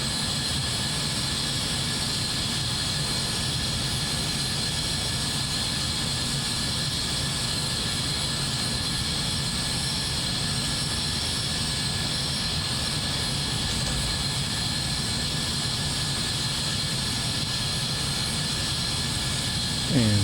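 Northrop F-5 Tiger II jet engines idling in MSFS 2024, a steady, continuous whine and rumble with constant loudness throughout, no voices over it.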